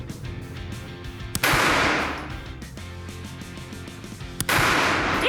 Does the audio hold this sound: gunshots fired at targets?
yes